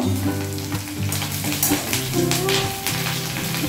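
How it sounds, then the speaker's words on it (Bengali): Curry leaves fry in hot oil in a pan, a loud, steady close sizzle and crackle with a few stirring scrapes and no talking. "একটা কারি পাতা ছড়া এতে দিয়ে দিচ্ছি। দিয়ে ভেজে তুলে নেব।"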